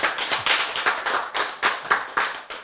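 An audience at a Korean lecture on scripture claps together in short, uneven bursts, close and fairly crisp, with no talking over it.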